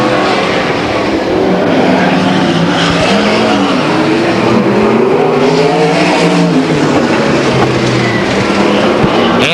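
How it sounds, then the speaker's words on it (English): Fuel-injected race cars roaring down the straightaway at Stockton 99 Speedway, a loud, sustained engine drone with rising and falling pitch as two cars pass close by, with no talk. "you get those 2 cars on the straightaway, you can really tell they fully injected cars"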